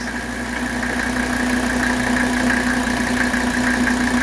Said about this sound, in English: look how smooth that engine is